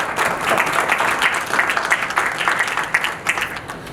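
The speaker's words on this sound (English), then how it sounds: "Please round of applause" Audience applause at a national coaching school recognition event, steady dense clapping filling the room for several seconds at a fairly loud level.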